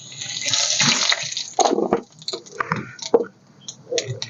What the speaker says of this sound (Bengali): এবার আমি এই তেলে জিরে ফোড়ন দেবো।